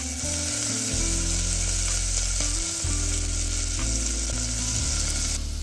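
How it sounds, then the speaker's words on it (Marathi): Chopped curry leaves and onion frying in a pan for a black-eyed pea curry, a loud steady sizzle with faint stirring, while low musical tones run underneath throughout. "आणि आता यामध्ये आपल्याला घालायचे आहे कढीपत्ता कढीपत्ता मी चिरून घेतलेला आहे आणि लगेच कांदा घालायचा आहे"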